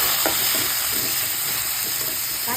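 Chopped tomatoes hit a hot pan of sautéed onions for a brinjal and dried anchovy curry, giving a steady, loud, close hiss and sizzle that fills the whole moment with no talking.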